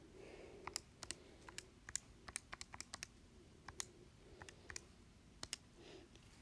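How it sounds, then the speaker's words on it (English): Numbers are tapped into a calculator: a quiet, irregular run of small plastic button clicks, some in quick bursts and others spaced apart, close by in a hushed room. "Okay, you're going to type that into your calculator."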